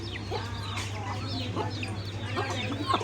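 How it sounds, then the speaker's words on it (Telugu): Native country chickens in a village clucking and calling in short overlapping bursts, close and fairly loud over a steady low hum, with light background activity throughout. "ఇవి ఒరిజినల్ నాటుకోళ్ళు."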